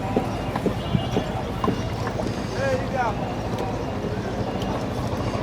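A boat travels at speed on the Buriganga river, its steady engine rumble and rushing water mixed with wind buffeting the microphone, while voices talk nearby.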